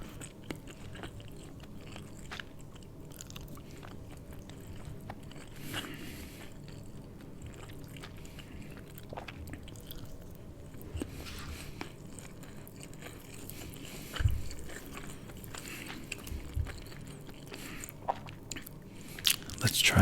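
Close, quiet chewing and crunching of Ono Hawaiian BBQ food with white rice and katsu sauce, with irregular bites and soft mouth sounds over a low background hum and no speech.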